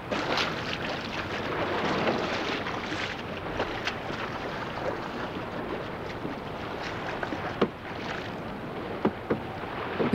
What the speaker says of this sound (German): Bevor die Fischer das Boot zu dem eigentlichen Fangplatz rudern